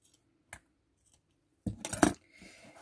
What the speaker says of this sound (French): Je vais venir le couper.